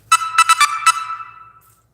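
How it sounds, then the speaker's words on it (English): A phone notification chime goes off during a live craft stream: several quick bright tones in a burst, then one more, ringing out and fading to silence, loud and alone. "the little notification button going off on my phone"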